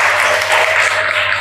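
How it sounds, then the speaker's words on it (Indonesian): Classroom applause for a student during an Arabic lesson, a short loud burst of many hands clapping together close by, with a steady low hum underneath. "Tepuk tangan buat Mbak."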